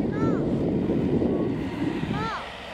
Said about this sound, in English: That's a jet over there.